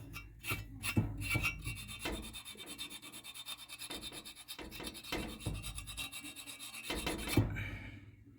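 Steel wool scrubs a water heater pilot assembly with a raspy, rhythmic rubbing in repeated strokes, close and moderately loud, with a few short pauses between bursts.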